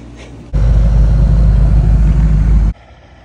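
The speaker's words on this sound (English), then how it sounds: "That truck sounds good." A loud, steady pickup truck engine runs close by with a deep low rumble, holding for about two seconds before cutting back to quieter background noise.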